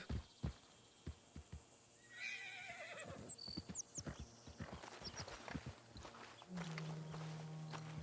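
In the Red Dead Redemption 2 video game, a horse's hooves clip-clop at a walk while the horse whinnies and neighs, with a low steady tone entering near the end, all at moderate volume.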